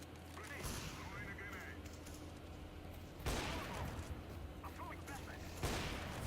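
Gunfire in the video game CS:GO, with bursts of shots opening three separate loud passages over a steady game background and faint talk mixed in.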